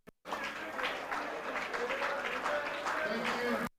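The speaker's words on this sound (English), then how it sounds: "it is a big round of applause" An audience applauds at a national team final, a steady wash of clapping that is fairly distant and soft, with a voice speaking over it.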